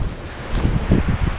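Gusty wind buffets the microphone outdoors on a rainy April day, a close, low rumbling roar that swells in bursts and keeps going through the whole moment, with no clear voice on top.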